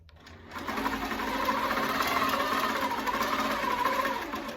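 A long arm quilting machine runs steadily, stitching a meander pattern across a quilt with white thread; a continuous close mechanical whir and rapid needle chatter that starts after a brief quiet moment and holds level to the end.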